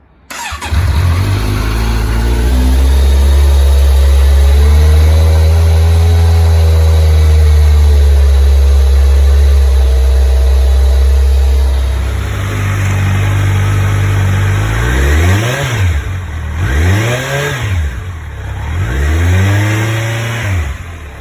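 A Kawasaki Z900 motorcycle with its stock OEM exhaust fires up from cold and settles into a loud, steady, burbling idle. Near the end come three sharp throttle blips that rise and fall.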